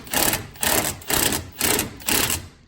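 An impact wrench runs a nut on the fuel sending unit of a 2001 Chevy 2500HD with the LB7 engine, firing in five short, evenly spaced bursts close by, each about half a second long.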